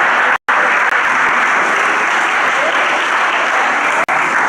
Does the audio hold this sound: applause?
yes